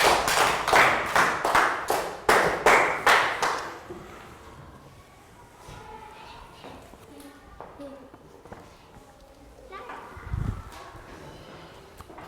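A classroom of young pupils claps in a brisk, rhythmic round of applause for several seconds, loud and close, before the clapping stops and a teacher's voice carries on amid faint room noise.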